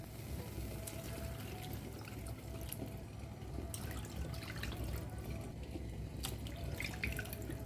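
Water pouring steadily into a cooking pan for sweet corn soup, a continuous close splashing stream with a few brief clinks over several seconds.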